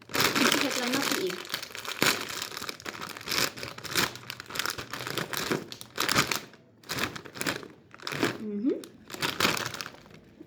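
Someone opens a crinkly bag of cheese-flavored snacks, producing close, continuous plastic crinkling and tearing with a voice talking over it.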